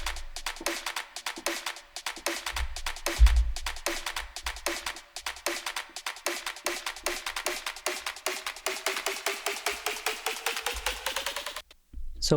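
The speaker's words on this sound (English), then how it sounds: "Then we have the build-up percussion." Electronic build-up percussion for a music track layering a snare roll, claps and another snare: rapid evenly spaced hits that speed up and brighten steadily, ending in a short cut to silence, with occasional low thumps and no voices.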